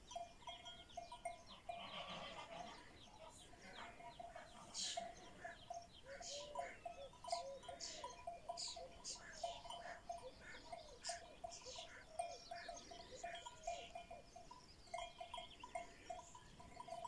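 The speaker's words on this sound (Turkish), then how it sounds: "Sabah sabah nasıl sessiz, sakin, kuş sesleri." Faint morning birdsong carries through a quiet outdoor vegetable garden setting, with scattered chirps and calls from several birds and a distant animal bleat.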